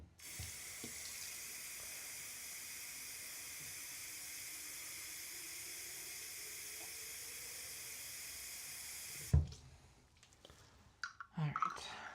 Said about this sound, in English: And then I can move it to the steam press to get it actually adhered to the interfacing correctly.